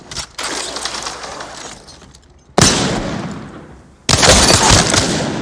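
Three loud, sharp gunshots from a weapon in the battle royale game Apex Legends, each a sudden broadband crack trailing into a long decaying echo, spaced about two seconds apart with no talking.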